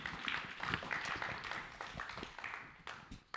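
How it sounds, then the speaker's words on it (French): Audience applause fills a hall at a live science-communication contest final, dense and steady clapping from a crowd with sharp individual claps popping out, fading slightly toward the end. "on l'applaudit bien fort, Gustave, s'il vous plaît."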